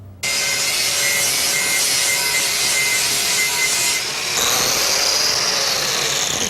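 Stone being ground by hand, a steady loud abrasive rasp that continues for several seconds, changing character partway through as the stroke or pressure shifts, with no talking.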